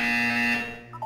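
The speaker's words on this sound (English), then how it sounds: "You will hear a buzzer." A loud, steady electronic buzzer tone from the video game Portal 2 sounds alone, holding for about half a second before fading, followed by a faint two-note electronic blip.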